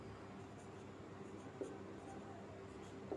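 A marker or chalk writing on a board during a maths lesson, faint soft scratching strokes against a quiet room hum, with a couple of light taps.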